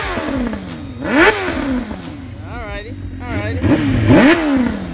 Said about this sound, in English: I know the bike is already warm, so let's crack that throttle just a little something.